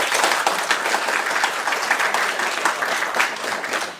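An audience at a jazz concert bursts into sustained applause, dense, continuous clapping from a crowd that holds steady before tapering slightly at the end.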